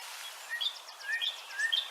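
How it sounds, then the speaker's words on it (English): A northern cardinal sings clear, whistled notes in a quick series of rising and falling phrases, moderately near against a quiet background. "That's one version of the northern cardinal song."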